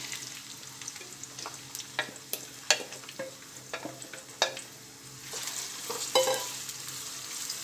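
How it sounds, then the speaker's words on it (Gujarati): Onions, 250 grams, going into about 150 grams of hot oil, frying and sizzling close up with a steady hiss and scattered crackles and stirring clinks, no talking. "તેલ ગરમ થાય એટલે આપણે એમાં ડુંગળી નાખી દઈશું"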